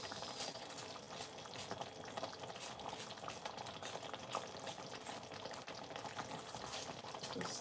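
Sliced onions tumbling into a simmering Ghanaian chicken stew, a steady dense bubbling and crackle with scattered sharp ticks of contact throughout, close and continuous with no voices.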